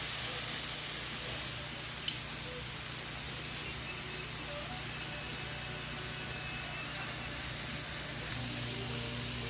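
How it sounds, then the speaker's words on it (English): Carne asada steak sears on a grill with a constant, soft hiss, broken by a couple of faint clicks. "I want to kind of jump start my steak a little bit first before I put my onions on the grill"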